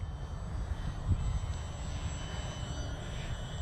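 A model airplane on its maiden flight drones steadily overhead, with a low, rough propeller hum that carries on without a break and sounds faint and fairly distant.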